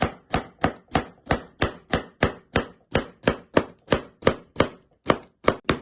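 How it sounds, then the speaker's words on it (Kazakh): A knife slices cucumber into thin strips on a board, giving a steady run of about sixteen crisp, evenly spaced chops, close and distinct with no voices. "соломка қылып тураймыз."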